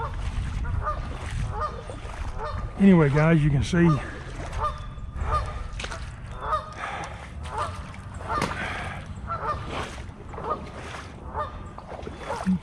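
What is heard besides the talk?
geese honking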